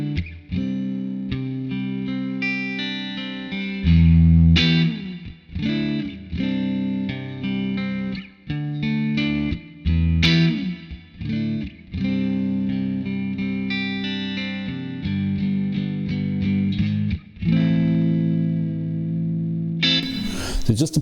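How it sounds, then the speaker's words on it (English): Electric guitar played through a NUX Atlantic spring reverb and delay pedal, sustained chords and picked notes with drippy reverb and repeating echoes, continuous and loud throughout. "I've been really impressed by the spring reverb sound"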